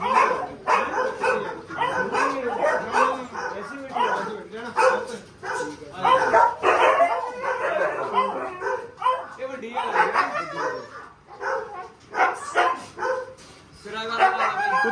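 A dog barks and yips repeatedly amid ongoing, busy talk from several people, the barks mixed in with the voices.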